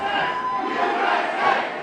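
A large crowd chants and roars in unison like a wrestling audience, a dense continuous wash of voices carrying a rhythmic chant, loud and sustained.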